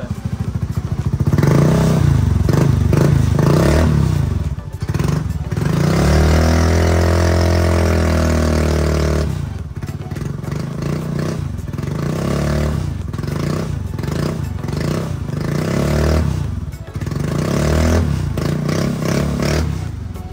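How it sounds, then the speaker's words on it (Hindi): An old Honda Activa 6G scooter with a modified exhaust idles and revs nearby, a loud throaty putter with thumps and clatter, rising in pitch through one long rev in the middle before settling back to idle. "यहाँ मैं आपको सुनाता हूँ एग्जॉस्ट का साउंड"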